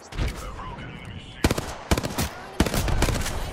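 Gunfire in the Apex Legends video game: sharp bursts of shots in three clusters over a busy game soundscape, fairly loud, with a voice talking faintly underneath.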